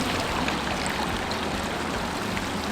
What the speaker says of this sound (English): we're gonna fill it up with hot water